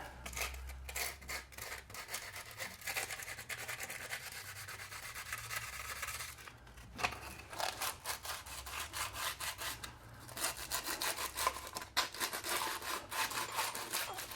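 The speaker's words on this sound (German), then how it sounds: "So, hier mal Sandpapier kurz. Ja, auch kurz anrauen die Fläche." Sandpaper roughening the surface of a Vespa GTS 300 oil pan, a steady continuous rasping scrub with brief pauses, close and fairly loud, with no talking.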